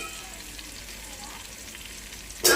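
Vegetables sizzle steadily in a hot pan while soya chunks pulao is being made, a soft continuous frying hiss that jumps to a louder burst of sizzling right at the end as something is stirred or added.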